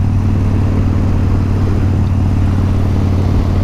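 A Harley-Davidson Dyna Low Rider with a 96 cubic inch V-twin runs close by with a loud, deep, lumpy idle. The low throbbing pulses stay steady throughout and no one speaks over them.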